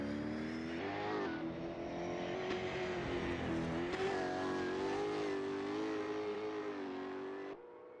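Race car in Assetto Corsa drifting around the final turn at Phillip Island, its engine droning loud and steady with rising and falling revs and tyre noise throughout, cutting off near the end.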